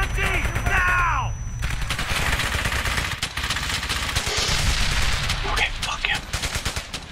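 Rapid bursts of machine gun fire and scattered gunshots crackle in the World War II shooter Brothers in Arms: Hell's Highway, dense and loud, while a player shouts over the combat.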